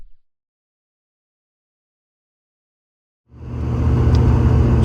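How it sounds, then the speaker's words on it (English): A pickup truck that is no longer running right drives down a road. There is near-silence at first, then loud, steady engine and road roar cuts in abruptly and holds to the end. "I am driving to work right now, and truck's no longer running fine"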